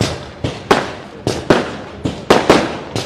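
Firecrackers burst at a political rally in Barad, about nine sharp, loud cracks in quick irregular succession, each followed by a brief decaying echo.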